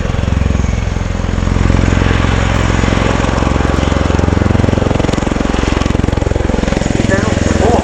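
A Bell Boeing CV-22B Osprey tiltrotor makes a loud, throbbing rotor roar as it displays at the RIAT air show at Fairford, with rapid blade chop and a steady engine drone, heard close and continuous.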